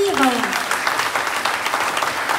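A crowd at a conference breaks into steady, lively applause for a robotics team, with a voice briefly heard at the very start.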